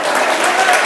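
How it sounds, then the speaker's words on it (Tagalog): A church congregation claps in praise, a short, loud and dense burst of applause from a large crowd. "Let's give the Lord a clap of praise."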